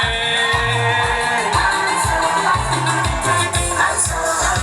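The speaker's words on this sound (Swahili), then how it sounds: "Wahitimu wote piga kelele." Graduates at a college graduation ceremony shout and cheer together, a loud sustained crowd roar with whoops over a steady thumping music beat throughout.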